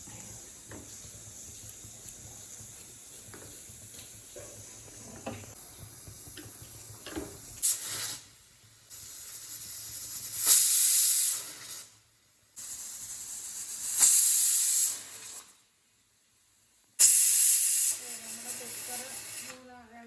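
A pressure cooker with dal and raw papaya for erissery vents steam in several loud, broad hissing bursts of a few seconds each, separated by quieter kitchen noise and short silent gaps.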